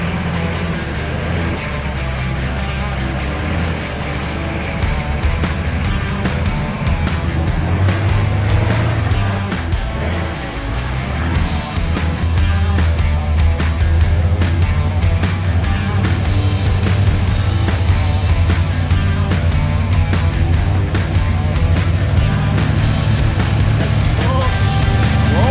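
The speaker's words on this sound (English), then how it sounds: "When you drive a badass H1 like this, you make this obstacle just look like nothing." A Hummer H1 climbing a rocky ledge obstacle on an off-road trail in British Columbia, Canada, with a steady loud engine drone and deep low rumble rising as it crawls up, plus scattered knocks and scrapes; someone talks over it.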